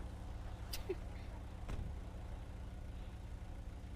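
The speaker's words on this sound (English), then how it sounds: "oh my goodness, the engine is so loud." A vehicle engine runs steadily in a GTA roleplay game, a constant low rumble that fills the whole stretch, with a couple of brief sharp clicks over it and no one talking.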